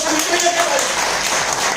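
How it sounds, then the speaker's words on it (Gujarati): An audience applauds Sagar at a business seminar, dense steady clapping filling the short moment with faint voices mixed in. "તો પછી સાગર સાહેબ માટે જોરદાર તાળીઓ"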